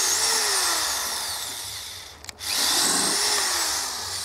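A power drill bores into a wooden shovel handle, its motor whining steadily and close by. The whine briefly winds down and stops near the middle, then starts up again at full speed.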